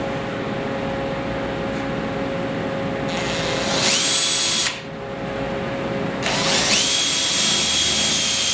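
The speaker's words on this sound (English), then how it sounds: "why don't I just use a Forstner bit here, and we'll drill a little hole" A power drill with a Forstner bit bores through arborite laminate in two sustained whining bursts, rising and holding a high pitch, with a steady hum underneath.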